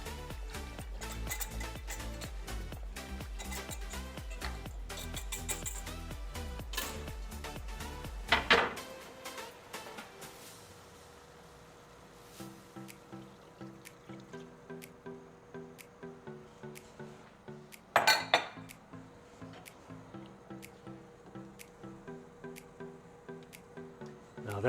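A cornstarch and broth mixture being whisked in a pan for Salisbury steak gravy: quick, steady metallic scraping strokes up close, then a pause and a slower, lighter run of taps and clinks.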